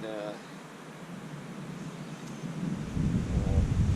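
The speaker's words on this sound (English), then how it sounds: "Probably hear the wind now." Wind blows steadily at a riverside campsite during a canoe trip in the Delaware Water Gap, a low rushing roar that swells into a stronger gust toward the end. A voice is briefly audible at the start and end.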